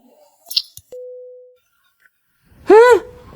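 A phone line gives a single short, steady electronic tone as a call is hung up in a drama scene, preceded by brief small clicks and followed by a loud voiced exclamation.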